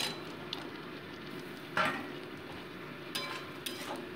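Spice masala being sautéed with boiled potato pieces in a pan for egg kosha, a quiet steady sizzle with a few light scrapes and clinks of a spatula against the pan.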